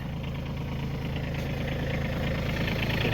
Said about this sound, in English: I turned on the PTO to start turning the snow blower